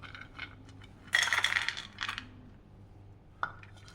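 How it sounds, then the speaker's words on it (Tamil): Dried fruits and nuts (walnuts, pistachios, almonds, cashews and dates) are tipped into a bowl, giving a cluster of clinking rattles followed by a few lighter taps in a quiet kitchen. "இப்போ இது எல்லாத்தையுமே ஒரு பவுலுக்கு மாற்றிக்கலாம்."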